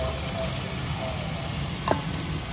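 Green chillies sizzling in a pan of softened tomatoes for chicken biryani, a steady close frying hiss with a brief clink of a utensil partway through.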